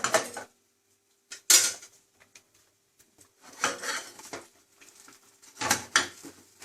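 Steel bowls clink and scrape together in a few short bursts as freshly fried arisalu sweets are pressed between them to squeeze out the oil, with quiet pauses in between.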